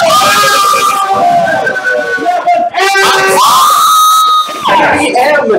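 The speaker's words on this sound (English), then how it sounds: "Her cheer actually physically hurt me." Game show live stream audience cheering and shrieking loudly for a contestant, with a sustained high-pitched scream and whoops filling the whole stretch, close and loud.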